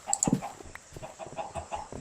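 A Minecraft chicken clucks in short, scattered bursts, with a sharper cluck near the start and softer calls spread through a quiet game scene.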